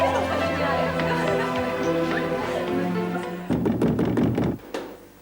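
Knocking on a closed door in a home, a burst of rapid loud raps near the end, following a stretch of music and voices.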